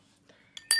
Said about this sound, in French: Remue avec énergie pendant quelques secondes.